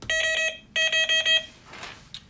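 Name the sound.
Delkim TXI Plus fishing bite alarm beeping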